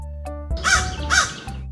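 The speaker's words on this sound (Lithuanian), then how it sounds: "Varna." Two loud, harsh caws from a crow, close by, over a sustained musical drone.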